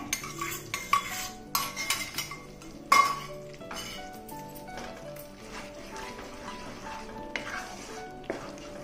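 Gram flour and ghee being mixed in a pan for Mysore Pak, a spoon scraping and clinking against the metal with repeated close stirring knocks and a faint sizzle underneath, no talk.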